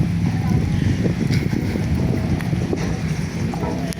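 Wind blows outdoors on a busy walking path, a steady low rumble of gusts buffeting the microphone, with faint background activity and no clear speech.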